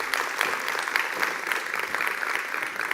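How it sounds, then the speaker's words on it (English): Applause from a conference room audience welcoming a minister and an official, brisk dense clapping that stays even and fairly close throughout. "let's just give them a round of applause"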